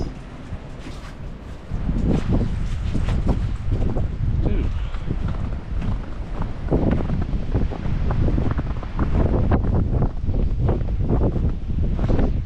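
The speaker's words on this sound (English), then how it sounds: "It's just like 30-mile-an-hour winds and snow." Strong 30-mile-an-hour wind with blowing snow in a Wisconsin semi-blizzard, roaring and buffeting the microphone steadily from about two seconds onward, loud and gusty throughout.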